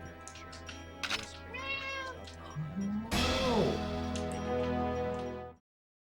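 A cat meowing in a room during a Super Mario World speedrun: loud, drawn-out, wavering meows and yowls close to the microphone, layered over steady game music that cuts off abruptly near the end.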